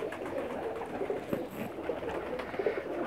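Pakistani Lakha pigeons coo softly at close range, their low rolling calls repeating over faint background rustle.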